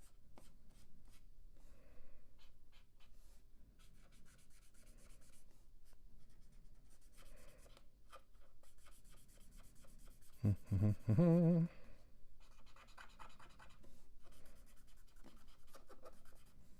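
A pen scratches steadily across paper while coloring in a hand on a drawing, with continuous close strokes and a louder, denser burst of scribbling partway through.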